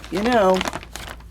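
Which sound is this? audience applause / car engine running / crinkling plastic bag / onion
crinkling plastic bag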